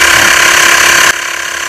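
A Xiaomi Mijia portable smart digital tire inflator pumps air with a loud, steady rapid buzzing rattle close up, then cuts off abruptly near the end, leaving a quieter hum.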